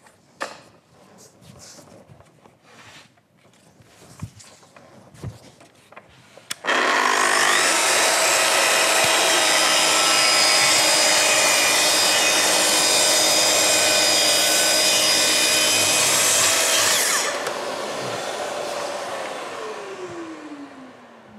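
A Festool TS55R plunge saw on a guide rail trims solid surface material. A few knocks come first, then the motor roars loudly and steadily for about ten seconds before winding down with a falling whine.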